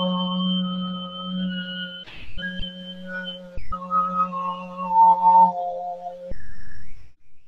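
A singer demonstrates overtone singing on an open vowel om, holding a steady low drone while clear whistling harmonics step above it, with brief breaks between sustained tones.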